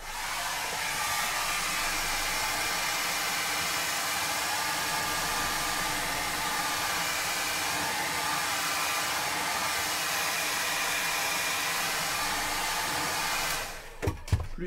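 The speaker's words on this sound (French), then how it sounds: "J'ai envie de faire du sèche-cheveux" A hair dryer blows loudly and continuously for about fourteen seconds, a steady rushing whoosh, then cuts off with a couple of brief clicks.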